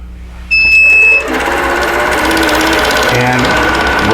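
A longarm quilting machine stitches a heart fern pantograph, starting up after a brief high whine and settling into a steady, loud, continuous mechanical hum with rapid needle rhythm.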